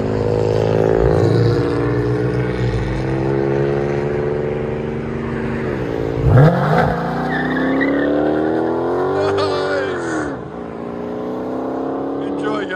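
A 2021 Dodge Challenger Scat Pack with its 6.4-liter HEMI V8 rumbles through a steady, loud exhaust note with several rising revs and a sharp blip midway, while someone talks over it.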